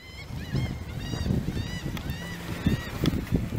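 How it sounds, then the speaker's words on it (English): Geese-like birds honk repeatedly at an amusement park, a run of rising nasal calls up close over bustling outdoor crowd noise and thumps. "Birds are laughing at us."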